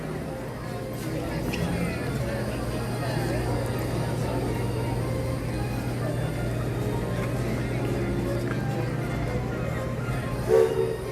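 The train ride at Magic Kingdom, Walt Disney World, carries a steady low rumble and rolling rail noise throughout, with a short horn-like tone near the end and people talking over it.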